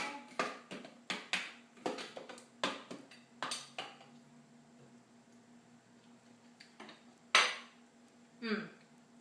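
A tasting spoon clinks against a dish of herb sauce, a quick run of sharp metallic taps early on, then a quiet pause and two more separate clinks near the end.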